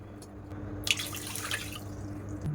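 A short splashy rush of two cups of water pouring into a pot holding a cup of sugar, rising briefly and then trailing off into quiet background hum.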